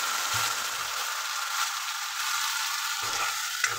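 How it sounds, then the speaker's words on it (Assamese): Continuous hissing sizzle of onions frying in a pan, steady and close, with a few faint clinks; no speech. "এতিয়া পিঁয়াজখিনি ভাজ খাবলৈ দিম"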